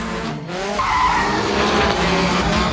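A 2023 Nissan Z drift car slides sideways with its tires spinning, a continuous loud roar of engine and tire squeal up close with no talking.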